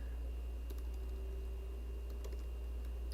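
Quiet keystrokes on a computer keyboard while entering router commands, a few sparse taps against a steady low electrical hum, close but faint, with no talking.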